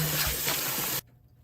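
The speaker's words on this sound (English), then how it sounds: "Rinse the noodles in cold water and then let the noodles dry." Cold tap water streams steadily over noodles in a sink during home cooking, a loud even hiss that stops abruptly after about a second, leaving quiet.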